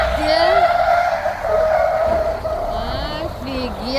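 A car skids and slides across a wet, slippery special training surface, its engine whining with rising and falling tones over a steady hiss of tyres on water, loud and near.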